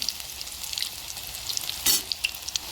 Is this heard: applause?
no